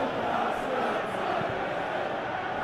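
A virtual stadium crowd roars steadily through a Chelsea versus Manchester City football match in eFootball 2021, a dense continuous wash of cheering and chanting with no pauses.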